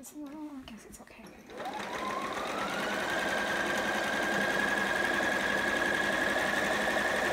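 A sewing machine stitches fabric at a home sewing project, whirring up to a rapid, steady mechanical hum with a rising whine after a brief start; a voice speaks just before it runs.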